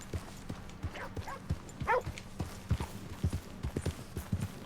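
Horse hooves clip-clop at a steady walking rhythm in Red Dead Redemption II, fairly close and moderately loud, with faint game ambience and a few brief higher calls behind them.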